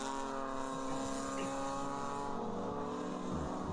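Porsche race cars lapping a racetrack during a 24-hour endurance race at VIR, a steady distant engine drone with sustained tonal whine, faint and continuous with no clear pass-by.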